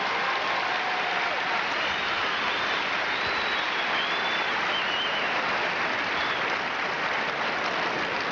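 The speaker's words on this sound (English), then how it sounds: "let's give another great Atlanta applause for such a great moment" An Atlanta crowd at a tennis exhibition featuring Navratilova and Evert applauds, a continuous wash of clapping at an even level, with faint whistles rising above it.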